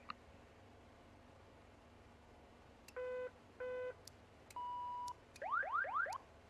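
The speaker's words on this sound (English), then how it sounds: "We'll check all of our alarms." Cockpit alarm test in a King Air 350 in the X-Plane 11 flight simulator: a run of electronic warning tones, two short repeated beeps, a steady single tone, then a rapid warbling rising chirp sequence, over low cabin hum.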